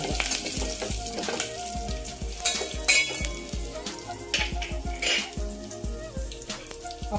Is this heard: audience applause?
no